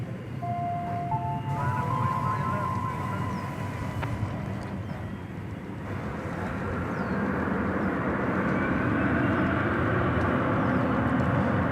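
Airbus A320 jet airliner at DFW Airport, a broad steady roar of jet engine noise that swells and holds loud throughout, with a brief tonal whine early on.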